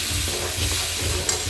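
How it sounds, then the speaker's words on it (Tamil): Onion and tomato sizzle and crackle steadily in a hot pan as they sauté, a close, continuous frying hiss with a faint stirring scrape. "வெங்காயம் தக்காளி நல்லா இதுக்கு வதங்கணுமா?"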